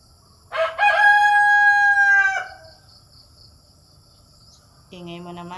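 A rooster crows once, loud and close, in a long drawn-out call on a countryside farm, followed by a shorter squawk a few seconds later, with steady insect chirring behind.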